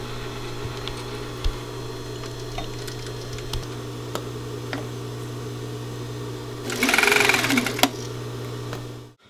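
A sewing machine stitches fabric for a pillow. After a long stretch of low steady hum with scattered ticks, the motor runs for a short, fast, rattling burst of close stitching, then stops.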